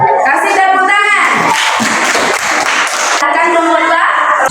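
A classroom group claps hands during a lesson, a burst of clapping mixed with overlapping voices and chatter, loud and close, running continuously under the talk.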